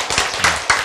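A few scattered hand claps from a church audience, three or four loud, close, separate smacks in under a second, with no voices over them.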